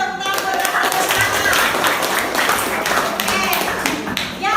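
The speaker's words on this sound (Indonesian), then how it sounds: "tepuk tangan buat Bapak Gus Dur" A class of children claps, a lively scatter of many hands with distinct sharp slaps all through. Voices of children chatter loudly underneath the clapping.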